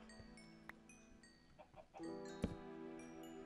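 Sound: chicken clucking

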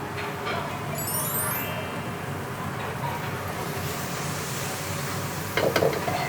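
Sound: fried rice with sausage and mushroom stir-frying in pan

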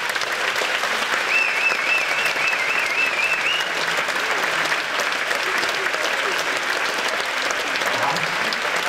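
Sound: audience applause

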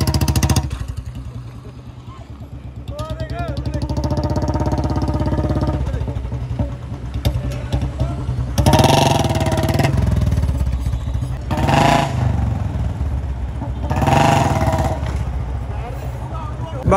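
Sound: Royal Enfield Bullet motorcycle engine running

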